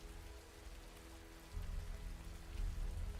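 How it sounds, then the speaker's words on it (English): Steady rain falling in a film scene, a continuous dense hiss that swells louder midway and carries on without voices. "It's still raining."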